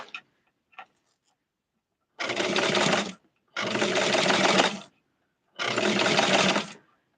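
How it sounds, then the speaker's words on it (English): Close sewing machine stitching a doll's bathing suit in three steady bursts of about a second each, the rapid mechanical whir stopping between runs, preceded by a few light taps. "I'm sewing it in the middle now."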